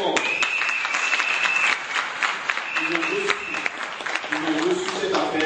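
Loud, sustained applause from a crowd at a ceremony honouring Patrick and his wife, steady dense clapping throughout with voices faintly audible underneath.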